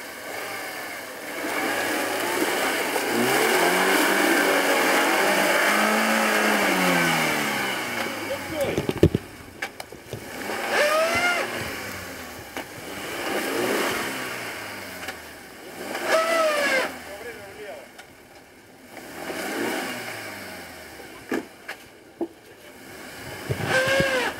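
A Suzuki Jimny stuck off-road revs its engine in repeated rising and falling surges, loud and close, with people talking over and between the bursts.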